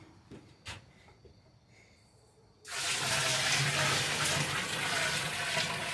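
Spring water pours steadily into a fermenter of muscadine brandy mash, a loud broadband rush that starts abruptly after a few quiet seconds and keeps running close to the microphone.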